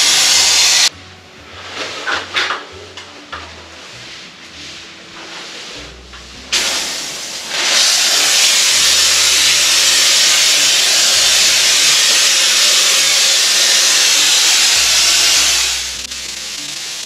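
A spray gun with a flat tip applies Vega Bond Purplecoat foam insulation, starting with short sputtering bursts, then a loud, steady broadband hiss held for about nine seconds before cutting back, with no talking.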